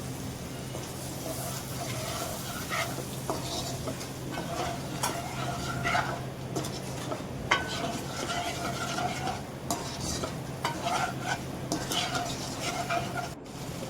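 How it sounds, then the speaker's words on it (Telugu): Eggs frying in a pan of oil seasoned with turmeric, salt and chili powder, with a steady sizzle and occasional stirring and scraping against the pan, fairly close and moderately loud throughout. "ఎగ్స్ వేసుకొని మంచిగా ఫ్రై చేసుకోవాలి."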